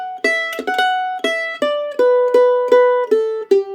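Mandolin playing an Irish jig passage with triplets, bright plucked notes in a lively lilting rhythm, some short and muted for a percussive feel, played solo and close.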